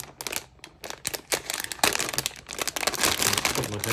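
A heavy plastic bag from a Bandai HG 1/72 model kit crackles and crinkles up close as it is cut open and handled, in loud, uneven bursts that grow busier toward the end, with no talking.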